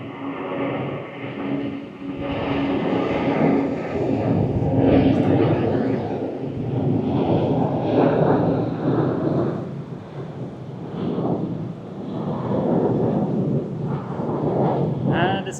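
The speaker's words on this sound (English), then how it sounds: "we're just in time to watch the plane taking off" BA passenger jet taking off from the runway at Gibraltar, a loud, continuous rumbling roar that holds steady at a distance without letting up, with no talk over it.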